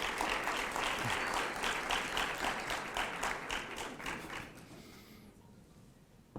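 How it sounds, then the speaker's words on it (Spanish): Audience applause at a presidential panel discussion, dense steady clapping from a crowd that gradually thins and fades out toward the end. "Aplauso, por favor."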